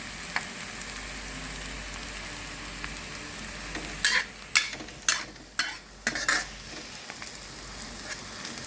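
Shallots fry in oil in a pan for Thai sweet pork, a low steady sizzle that gives way midway to a cluster of loud spatula scrapes and stirring clatters, close and without speech.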